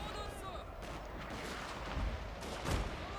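Musket gunfire from the Shogun II: Fall of the Samurai video game rattles steadily through a castle siege, with a couple of heavier booming volleys standing out above the continuous crackle while a voice talks over the battle.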